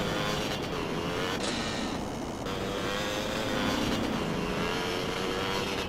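A motorcycle engine revs and drones steadily in GTA San Andreas Definitive Edition while the rider pops wheelies, a loud close whine rising and falling in pitch.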